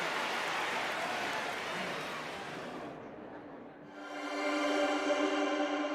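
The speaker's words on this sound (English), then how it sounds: "I needed the sound of applause again." A large crowd applauds in a loud, hissing roar that rises and falls. It gives way to a sustained, droning swell of massed voices.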